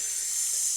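A steady, close sizzle like a hot fajita skillet hissing continuously, bright and even with no talk over it.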